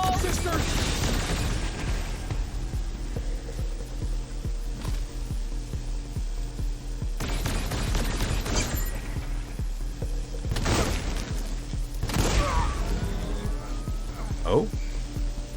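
Gunfire and explosions in the video game Wasteland 3, with repeated booming blasts and bursts of fire over a steady rumbling bed, several loud impacts spaced through the stretch alongside game music.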